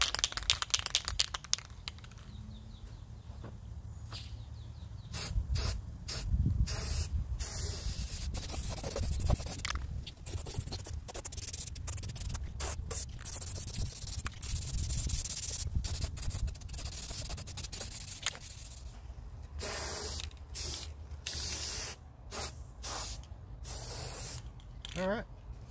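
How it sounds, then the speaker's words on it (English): An aerosol paint can sprays the belt guard of a Speedex 1631 garden tractor under restoration, giving repeated hissing bursts of varying length separated by brief pauses, close and fairly loud. "now we're ready to lay some paint on the belt guard"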